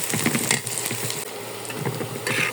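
Onions frying in a pan with cardamom for a Bengali prawn curry, a steady close sizzle with light crackles and a few stirring scrapes.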